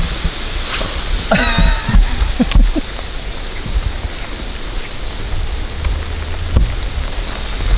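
Rain falling on a golf course, a steady hiss of drops outdoors with a few brief knocks and rustles breaking through near the start and again later.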